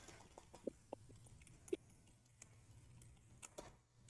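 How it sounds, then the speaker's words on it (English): Sparse, quiet clicks of keys being pressed on a computer keyboard, irregular taps spread across a few seconds over a faint background hum. "Like how I'm making it so you can hear my keyboard."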